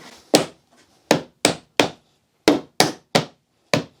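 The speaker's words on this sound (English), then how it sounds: "Let's try with a hammer." A hammer taps a wooden dowel in eight sharp, separate knocks at an uneven pace, close and loud against near silence.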